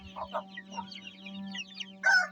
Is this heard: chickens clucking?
yes